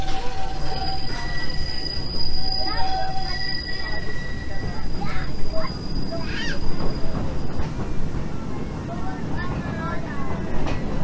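A Big Thunder Mountain mine train ride at Walt Disney World rattles and rumbles steadily along its track, with squealing wheels and metallic clatter close by and a continuous mechanical din throughout.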